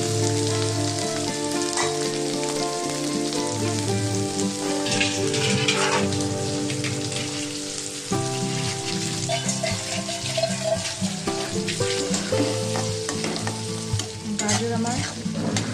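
Baby corn, carrots and other vegetables are stir-fried in a pan for vegetable pasta. A loud, steady sizzle is broken by scraping stirs, and music plays softly underneath.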